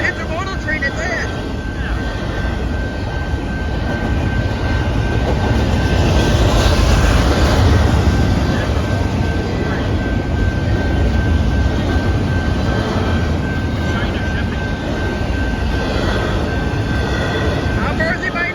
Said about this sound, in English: it's an intermodal train at that